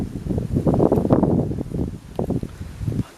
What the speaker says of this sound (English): Ooh, it has got quite windy.